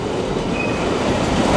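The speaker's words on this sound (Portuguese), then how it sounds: "Parece que o trem já tá partindo," Freight train pulling out at Hortolândia, Brazil, hauled by ES44ACi locomotives, a steady loud rumble of rolling wagons with a faint wheel squeal, continuous with no voices.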